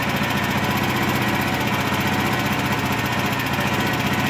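A home backup generator engine runs steadily with a loud, constant buzzing drone and no breaks while its fuel is shut off and the carburetor bowl empties.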